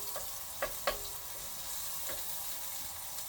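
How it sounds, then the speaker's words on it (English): Chopped garlic frying in a pan for a Bengali prawn malai curry, a soft steady sizzle with two or three brief spoon scrapes early on, fairly quiet and without speech. "And now I'm going to just give it a stir."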